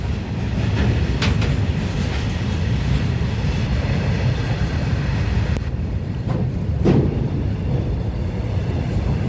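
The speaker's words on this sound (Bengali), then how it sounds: "প্যাসেঞ্জার ট্রেন তো আমার সৌভাগ্য হলো না, তো মালগাড়ির ভিউটাই দেখায়" A freight train rolls through Jhaluarbar railway station in Howrah district with a loud, continuous rumble and a few clanking clicks of the wagons, steady and close throughout, with no voices.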